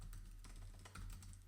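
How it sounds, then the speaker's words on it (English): Fast, uneven typing on a computer keyboard, a steady patter of key clicks over a low electrical hum, close to the microphone with no talking. "I'm typing today. My typing is terrible today."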